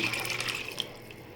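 Water pours steadily into a pot of egg curry for a second or so, a close, hissing splash that gently fades.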